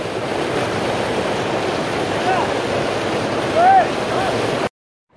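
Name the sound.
water flowing into channel of water-powered mill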